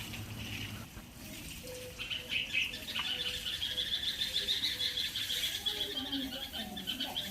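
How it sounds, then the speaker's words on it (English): Small birds chirp and tweet near a nest in a tree, a steady run of high calls rising through the middle and continuing over a soft background hiss, with no talking. "The mother birds start chirping nervously nearby."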